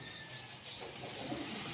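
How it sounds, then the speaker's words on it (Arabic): Pigeons cooing softly in a loft, a faint continuous bird murmur with light chirps and a brief flutter, quiet and steady with no talk. "حمام بسم الله ما شاء الله مفهوش اي غلطة خالص"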